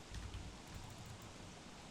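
Rain falling in the survival game Don't Starve, a faint, steady hiss of dense drops with a soft low rumble beneath, continuous throughout.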